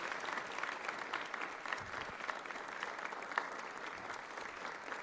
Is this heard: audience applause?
yes